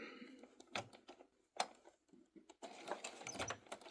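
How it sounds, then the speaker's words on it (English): A home sewing machine stitches the binding on a quilted wall hanging in short bursts of rapid mechanical whirring and clicking, pausing between runs, then running steadily near the end, close and fairly quiet. "I'm going to sew"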